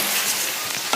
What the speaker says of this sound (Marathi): आता तेलामध्ये कांदा परतून घेऊ पहिला आपण.